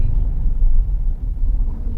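Heavy road traffic in Taytay, Rizal, heard from inside a Grab car as a deep, constant engine rumble with low droning motor noise and no clear speech.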